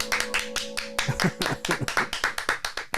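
A small group of people clapping in personal applause, sharp irregular claps close by, steady and lively throughout, with a sustained tonal hum underneath.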